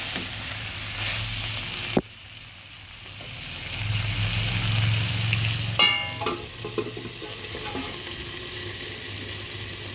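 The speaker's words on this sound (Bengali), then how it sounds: "এবার সব কিছু সুন্দরভাবে মেখে নিচ্ছি। সব কিছু সুন্দরভাবে নেড়ে দিচ্ছি।" Fried potato and pointed gourd pieces get stirred in a sizzling pan, a steady frying hiss broken by a sharp clack near two seconds and a burst of scraping, clinking stirs around six seconds, with no talking.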